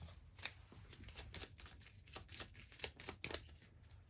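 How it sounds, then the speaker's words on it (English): A deck of board game cards is riffled and shuffled close up, giving repeated crisp bursts of flicking cards at an uneven rhythm, fairly quiet and with no talking. "So we'll take this and we will shuffle it."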